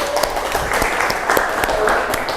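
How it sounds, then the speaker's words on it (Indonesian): Classroom audience clapping for a student group presenting at the front, a steady dense patter of hands with scattered sharper claps, fairly close and continuous throughout. "tepuk tangan untuk kelompok yang ada di depan"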